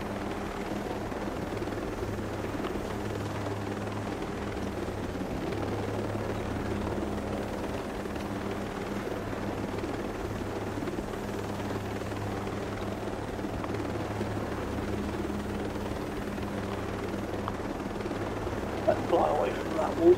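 A helicopter in the video game Ghost Recon Breakpoint drones steadily with a low, continuous rotor hum throughout, with faint mechanical noise layered on top.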